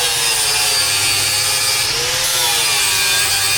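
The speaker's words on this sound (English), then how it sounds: "he's gonna go through and grind this side" An angle grinder works steadily on welds on a steel vehicle frame rail, giving a continuous loud high-pitched whine and grinding hiss with slight pitch wavers as pressure changes, and no talking.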